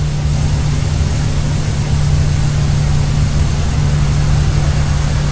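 Spitfire aircraft piston engine running in the FSX flight simulator, a steady loud low drone with a constant hum and broadband roar, unbroken throughout with no voices.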